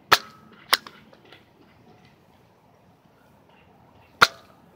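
Nerf toy gun firing foam darts, three sharp close snaps: two in quick succession at the start, then a pause and a single loud shot near the end, with faint clatter between and no voices.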